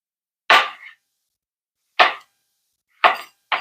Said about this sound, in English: So now that I have the potatoes peeled, let's get them cut up into, you know, bite-sized chunks